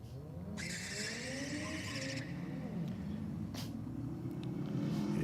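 SUV and wagon drag racing at the start line, with steady engine roar throughout, a burst of hissing air around the first seconds, and brief tire chirps.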